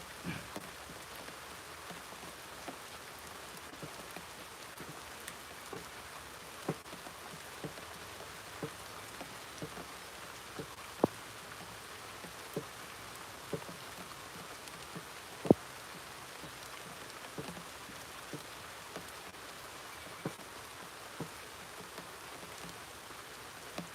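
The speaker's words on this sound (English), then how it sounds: "Working out in the pouring rain." Pouring rain falls steadily outdoors at a village gym during a workout, a dense even hiss with scattered louder drops and taps on nearby surfaces, with no voices.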